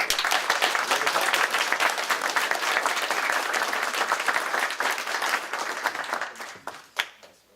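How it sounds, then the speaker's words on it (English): A room full of people at a Washington County Board meeting gives a steady round of applause that holds strong, then thins out and fades to a few last claps. "So let's give them a nice round of applause."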